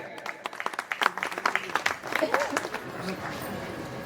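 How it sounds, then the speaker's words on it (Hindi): Scattered applause from a crowd at a Jain temple ceremony in Agra, sharp uneven claps that build for a couple of seconds and then trail off into murmuring voices. "एक बार तालियां बजा दीजिए"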